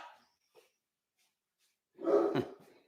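A single short, sharp dog bark rings out near the end after a mostly quiet stretch, preceded by a faint bit of sound.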